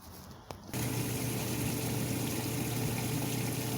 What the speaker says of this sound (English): I'm gonna fill that up with water